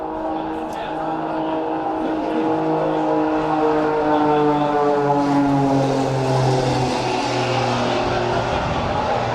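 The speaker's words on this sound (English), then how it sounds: "Somebody's having fun in an aerobatic airplane today." A propeller aerobatic airplane drones overhead, its engine tone rising and falling steadily as it maneuvers, with a voice talking faintly underneath.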